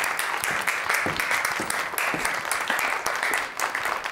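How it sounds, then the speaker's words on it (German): A steady wash of studio audience applause on a Swiss culture talent show final, with continuous dense clapping from start to finish at moderate level and no talk over it. "Ein Applaus!"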